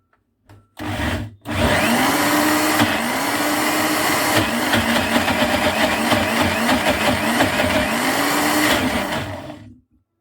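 A blender grinding sesame into tahini as oil is added, a loud, steady motor whir running for about eight seconds after a brief start, then cutting off.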